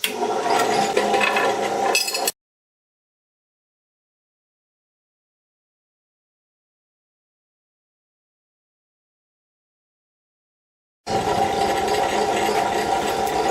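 A grinder sharpens a pitted lawn mower blade with a steady, loud motorized grinding whir that runs briefly, falls silent for several seconds, then starts again.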